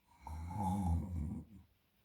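A storyteller imitates snoring with a single long, drawn-out rasping snore, close and fairly loud, fading out into quiet.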